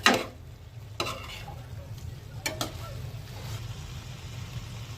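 Chicken liver roast being stirred in a pan, with a few sharp scrapes of the spoon against the metal over a steady low sizzle of frying.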